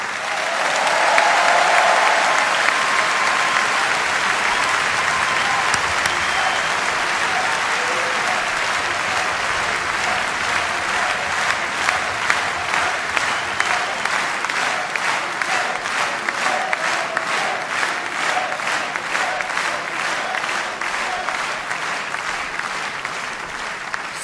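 A large crowd at a French political campaign rally applauds for a long stretch, starting as a broad roar and settling into rhythmic, unison clapping in the second half, with faint crowd noise underneath.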